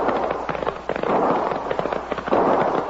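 Sound-effect gunfire in a 1953 western radio drama about sheepmen in a range fight, heard as dense, rapid crackling shots and pops in continuous bursts, loud and sustained without talk.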